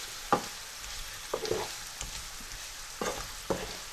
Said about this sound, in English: I'm just going to give that a quick mix. Make sure we get all the potatoes covered in that spice